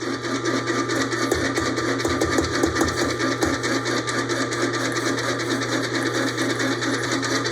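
Electric mixer at medium speed whipping frothy eggs as sugar is added, a loud steady whirring hum with a faint rhythmic rattle through it and no talk.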